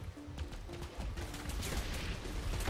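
Taser shotgun fired in the video game Minimum, producing a dense, continuous barrage of loud crackling blasts that build steadily over a few seconds with no pauses.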